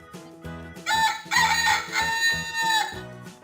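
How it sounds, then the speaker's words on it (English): A rooster crows in a children's cartoon about the letter R, shown arriving on a train, with a long bright call rising over a rhythmic chugging musical backdrop. "Look, Gordon coming with a rooster."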